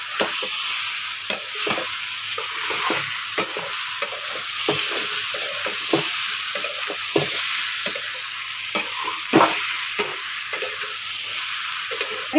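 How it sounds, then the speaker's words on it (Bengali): Spices being stirred into vegetables and prawns frying in a pan, a steady close sizzle with repeated scraping clicks of the spoon against the pan, no voices. "সবজির সাথে ভালো করে মাখিয়ে নেব মশলাটা।"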